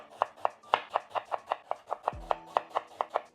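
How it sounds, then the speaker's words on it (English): A knife slices a peeled daikon radish into half moons on a cutting board, roughly fifteen crisp, evenly spaced chops in a steady close rhythm with no talk. "this daikon I'm going to cut into half, then slice to half moon"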